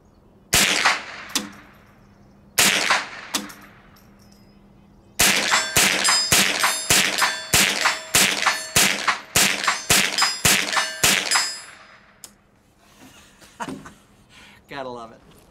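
Tippmann M4-22 rifle shots striking 8-inch and 4-inch steel plates at a range, sharp ringing clangs, a few spaced single shots followed by a rapid string of about a dozen, each with a bright metallic ring.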